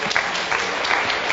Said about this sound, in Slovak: Poprosím veľký potlesk.